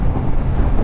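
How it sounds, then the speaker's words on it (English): Heavy wind buffeting the microphone while riding a 2016 Suzuki GSX-R750 motorcycle, a loud low rumbling roar that continues without a break. "Very windy."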